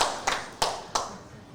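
At an ISACA Kenya chapter event, a few slow, distinct hand claps ring out, roughly a third of a second apart, fairly close and fading after each strike.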